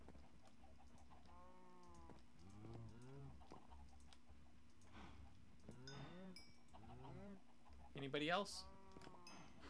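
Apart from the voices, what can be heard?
cows mooing in the video game Minecraft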